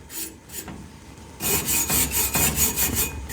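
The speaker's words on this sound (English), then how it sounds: "even if it's lit like this, you could do some scrubbing. It's only going to stir up a little bit of carbon." Carbon being scrubbed off the burner of a lit gas fireplace, a close, harsh rasping scrape that starts softer and then turns into loud, rhythmic back-and-forth strokes.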